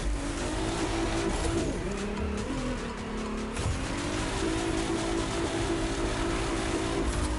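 A Forsberg Racing Nissan 370Z Pro Drift in The Crew 2 video game revs steadily with a loud, continuous engine drone, its pitch dipping and rising as it drifts, with tire squeal mixed in throughout.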